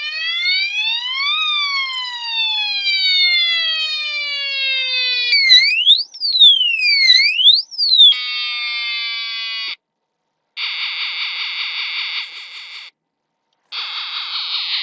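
A DIY 16-sound music box kit powered at 5 volts plays loud electronic siren tones, sweeping wails shifting into warbling and pulsed beeps with short silent gaps, close and alone.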